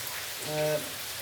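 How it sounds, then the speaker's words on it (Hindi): Steady rain falls on its own, a soft, even hiss of drops that swells slightly midway and stays fairly faint throughout. "आज तो सुबह से ही बारिश हो रही है।"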